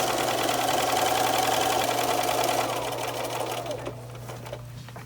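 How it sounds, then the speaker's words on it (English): A sewing machine runs steadily, stitching stretched elastic around the edge of a fitted sheet made from a flat sheet. The whirring motor is loud and continuous, easing slightly in the last second. "So I'm going to continue sewing around"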